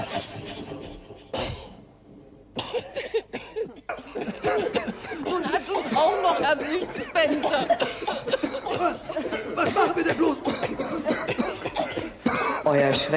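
Several harsh coughs mixed with chuckling and throat-clearing, close by, with voices laughing in between.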